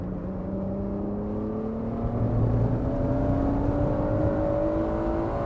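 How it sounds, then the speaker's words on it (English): A 1991 Acura NSX NA1 on a race track holds a loud, steady engine note that climbs in pitch as it revs in VTEC after a downshift into second gear, droning continuously with no voices. "I tried downshifting into 2nd, which was helpful. Kept us in the power band, kept us in VTEC."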